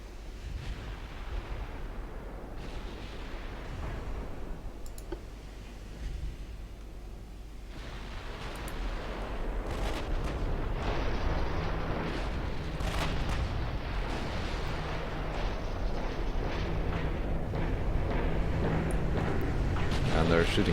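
Battleship guns fire in the naval game Ultimate Admiral Dreadnoughts, heavy booms and rumbling blasts building into a continuous roar of broadside fire, with a voice talking over it.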